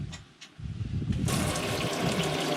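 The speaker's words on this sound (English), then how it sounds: "Drain the water pressure off until the water pressure is done." Water rushing out of an RV's plumbing as the system's pressure is drained, starting with a few faint knocks and then becoming a loud, steady hiss and gush of flowing water.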